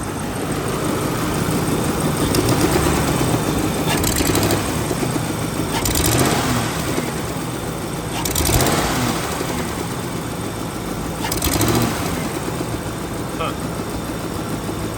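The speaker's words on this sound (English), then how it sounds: "That would sound a lot better without that exhaust leak." A car engine with an exhaust leak idles with a rough, rattling exhaust note, swelling in a few brief revs at regular intervals.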